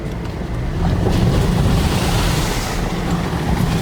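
A 2021 Jeep Trailhawk splashes through water on a winter trail, giving a steady, loud wash of churning water and rumbling noise throughout with no voices.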